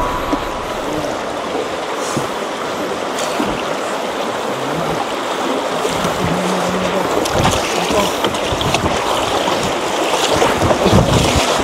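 Boat shooting the river rapids at Pagsanjan Falls, with steady loud rushing water and churning surf plus wind buffeting the microphone throughout, building slightly toward the end.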